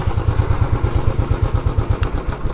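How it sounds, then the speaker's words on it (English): A parked motorcycle engine idles with a fast, even low thumping and a light mechanical clatter on top, loud and close, with no talk. "I will park my bike here."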